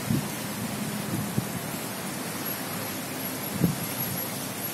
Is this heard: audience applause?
no